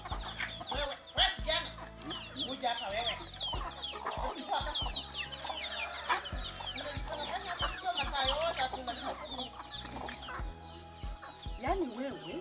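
Chickens cluck and squawk at a farmyard feeding spot, a busy overlapping chorus with scattered louder calls. Speech and other activity sound under it throughout.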